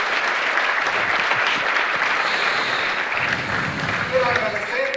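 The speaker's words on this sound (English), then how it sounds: "that deserves a very good applause" An audience at a diplomatic peace panel session gives loud, sustained applause, many hands clapping close and dense, with a few murmuring voices emerging near the end.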